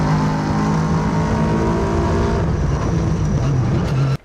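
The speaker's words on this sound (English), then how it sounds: "just listen to the sound of the car" Jon Olsson's car engine roaring loudly and continuously with a rich, sustained growl and a slight pitch shift toward the end, cutting off abruptly, with no voices.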